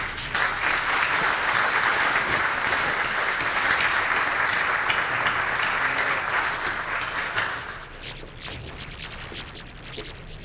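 Sustained audience applause at a talk on constitutional and electoral law, dense and steady clapping from a crowd for about seven seconds, then thinning out to scattered claps and room noise.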